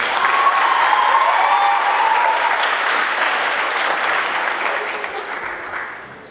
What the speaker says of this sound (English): One more round of applause for all of the cadets.